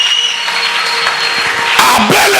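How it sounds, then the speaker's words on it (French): A church congregation at a Sunday service with Pastor Raymond Kalubi breaks into applause and cheering for Jesus, a bright crowd burst rising near the end over a lingering tone. "Est-ce qu'on peut acclamer Jésus?"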